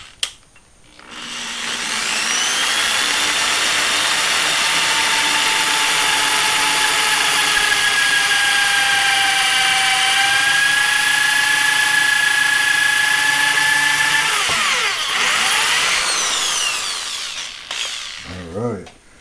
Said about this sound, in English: So let's go ahead and get these drilled